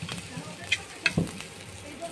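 Eggs are added to a pan of oil and sizzle softly and steadily under a few light clinks, at a moderate distance with low background noise.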